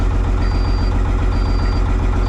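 A cabover truck's diesel engine idles roughly and steadily at close range, with a constant low-pitched rumble and a faint high whine running through it, and no talk.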